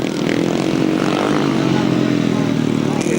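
Motorcycles racing on a grasstrack in 1992, their engines droning loudly and steadily in a continuous roar that fills the whole stretch.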